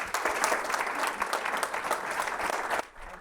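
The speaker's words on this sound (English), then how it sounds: "Can we give these guys a round of applause" Audience applause at a corporate investor meeting: a warm, sustained round of clapping from a room full of people that fades out after about three seconds.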